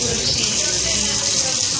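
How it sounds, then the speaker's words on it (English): Cold water pours from a tap over peeled bananas, a steady, close hiss of running water with no break. "Run it in some cold water."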